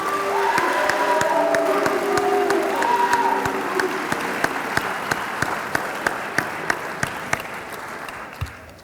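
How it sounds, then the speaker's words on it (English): An audience at an awards ceremony applauds steadily for several seconds, then the clapping thins out into a few scattered, distinct claps before it dies away. "Can you guys give them a round of applause, please?"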